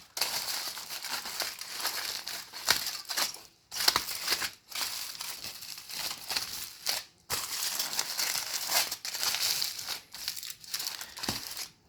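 Thin plastic vinyl sheet wrapped around a crystal resin mold for a nail-shaped piece crinkles and rustles steadily as it is handled, close and fairly quiet, with a few brief pauses and no talk.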